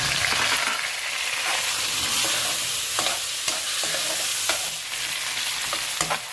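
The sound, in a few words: tomatoes frying and stirred in pan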